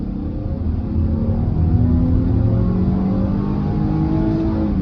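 A 2019 Chevy Blazer AWD in sport mode is floored at full throttle, its engine note climbing steadily in a strong, continuous rev that rises in pitch over several seconds, heard from inside the cabin.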